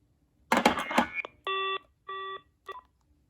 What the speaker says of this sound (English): I just love hearing these old phones ring like that